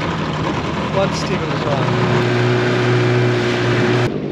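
A sailboat's auxiliary engine, which keeps cutting out and may have a fuel tank fault, drones steadily and loudly throughout, with someone speaking briefly over it.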